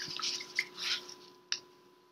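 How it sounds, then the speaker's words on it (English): Paintbrush swished and rinsed in a water cup, faint soft sloshing and light dripping clicks with a couple of sharper taps, quiet and close. "I'm going to rinse my brush really well now."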